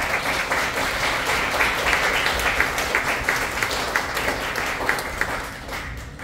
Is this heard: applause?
yes